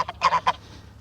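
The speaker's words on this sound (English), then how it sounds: "Geese." Geese on a Portuguese farm honk nearby in a quick burst of four or five loud nasal calls, then fall quiet over a low background hum.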